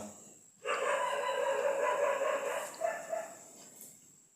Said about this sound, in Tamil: வெளியில் நாய் சத்தம்லாம் கேட்குதா உங்களுக்கு